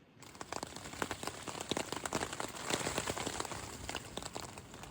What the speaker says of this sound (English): Gotta love rain falling on a tent.